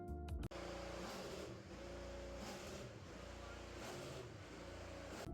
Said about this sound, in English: they were testing Nolan Siegel's car, which you'll hear right now